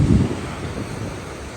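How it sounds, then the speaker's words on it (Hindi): Winter sea waves crash on a beach, a heavy low roar that swells at the start and then settles into a steady rushing wash, with wind buffeting the microphone throughout. "जो आवाज आ रही है ना समंदर की, क्या ही बात है, इतनी जोर से आती है ना पीछे से लहर"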